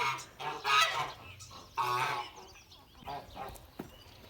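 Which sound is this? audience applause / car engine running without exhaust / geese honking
geese honking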